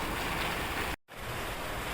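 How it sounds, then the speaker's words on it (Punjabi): Steady rain falls in bad weather, a dense, even hiss across the whole clip, briefly cut off by a short dropout near the middle before resuming just as loud. "ਜਿੰਨਾ ਟਾਈਮ ਮੀਂਹ ਨਹੀਂ ਹਟਦਾ ਆਪਣਾ ਤਾਂ ਕੰਮ ਨਿਬੜਨਾ ਹੀ ਨਹੀਂ"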